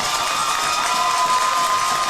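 A high school baseball crowd for Pleasant Grove on its feet cheering after a home run, a steady, loud, continuous roar of many voices with no breaks.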